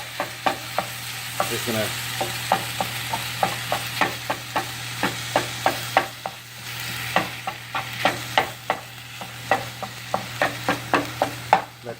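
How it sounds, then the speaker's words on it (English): Ground turkey browns in a hot pan with a steady sizzle, while a spoon or spatula scrapes and stirs in regular rhythmic strokes; a voice speaks briefly near the start. "I just want to, brown up the ground turkey a little bit"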